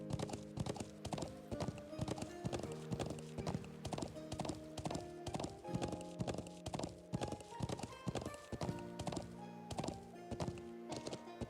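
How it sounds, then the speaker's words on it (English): Horse hooves clip-clop in the video game Trails of Cold Steel, a quick regular string of hollow knocks at a trot, clear and close over faint game music. "I don't think we can go up the stairs with our horse,"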